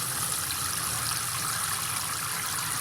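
Water poured steadily into a container of homemade fish waste liquid fertilizer, a continuous close gushing splash with no voices.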